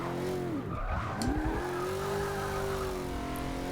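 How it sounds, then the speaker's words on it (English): A Holden Monaro in Forza Motorsport 6 drifts sideways, its tires squealing in a long, loud wavering whine that dips and climbs over the steady engine drone. "So we're going to have to try and drift this thing a little bit."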